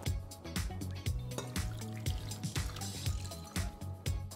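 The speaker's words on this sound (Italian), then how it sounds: "Aggiungo acqua e zucchero nella stessa quantità." Water and sugar poured into a cooking pot for candying orange peel, a close, trickling splash with faint knocks and drips, fairly quiet and without talk.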